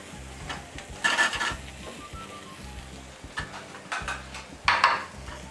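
A spoon scrapes and clanks against a pan as boletus mushrooms are stirred in oil with a pinch of salt, soft frying sizzle underneath and a few sharper metallic knocks, with no talking.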